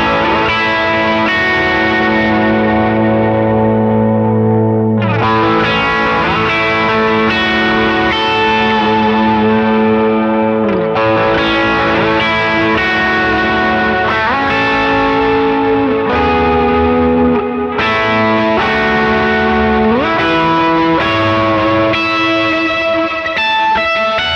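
Electric guitar through a boost pedal on the down toggle setting, with a boosted, slightly overdriven tone playing sustained chords and bending lead notes, loud and continuous throughout.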